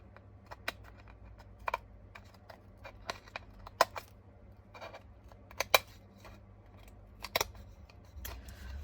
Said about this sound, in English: now I'm going to trim this. So let's get my scissors